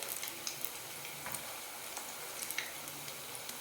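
Bottle gourd dumplings fry in oil in a pan over a medium flame, giving a soft, steady sizzle with faint crackles and pops throughout, quiet and close, with no talking.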